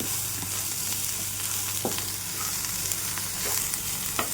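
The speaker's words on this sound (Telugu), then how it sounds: "ఇప్పుడు ఈ సాల్ట్, పసుపు ఇవంతా కూడా చక్కగా అంతా కలిసేలాగా దీన్ని మనం ఫ్రై చేసుకోవాలి" Sprouted moong beans fry in a pan with salt and turmeric, giving a constant close sizzle broken by a few soft scraping stirs, with no voices.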